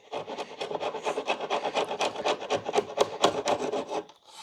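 A dull chisel scrapes and pares wooden beehive woodenware in a fast, steady run of close rasping strokes, each stroke a short rough scrape, for about four seconds.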